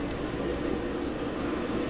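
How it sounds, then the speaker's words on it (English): An A319 auxiliary power unit runs in a simulator ground ambience, a steady broadband whine and rumble with a high tonal hiss, constant and unbroken. "if you walk out outside here, you'll hear the APU"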